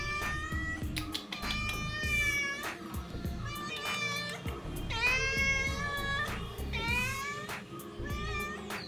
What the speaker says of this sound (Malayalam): ഞാൻ ഇപ്പോഴേ പുറത്തിറങ്ങിയപ്പോൾ കണ്ടതാണ് ഈ ഒരു കറുത്ത പൂച്ചേനെ